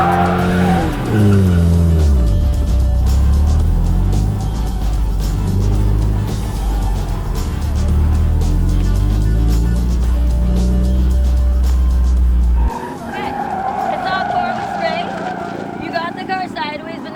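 A car drifting in New Orleans at a drifting lesson, with a loud engine roaring and tires screeching through repeated slides for about twelve seconds, then cutting to a quieter scene where people talk.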